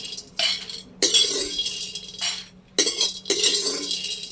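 Bean seeds fry in a pan while a metal spoon stirs them in repeated bursts of scraping and rattling, with short quiet gaps between strokes.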